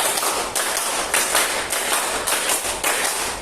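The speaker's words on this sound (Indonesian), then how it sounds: "Tepuk 4 3 kali." A class of students claps a rhythmic pattern in unison, groups of sharp claps repeated several times in a classroom, loud and close with no talk over it.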